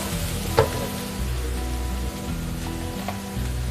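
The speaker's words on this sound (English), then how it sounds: "So over here I got the pan, some olive oil. I start with the onions" Onions sizzling in olive oil in a pan for a squid ink pasta sauce, a steady soft hiss over a low hum, with a couple of brief clicks.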